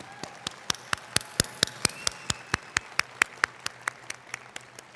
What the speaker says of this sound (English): I think we should give a round of applause to our Air Force Junior ROTC team.